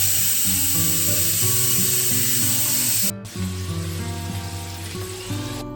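Mutton boiling in a pressure cooker gives a steady, loud hissing spray of steam with a low bubbling rumble underneath, briefly cutting out partway through before resuming slightly softer.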